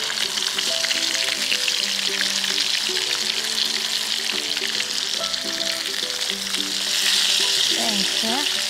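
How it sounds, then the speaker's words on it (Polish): Food frying in a pan, a steady crackling sizzle running throughout, with faint tonal clinks and scraping from stirring now and then, close and moderately loud. "Ale ślicznie się smażą."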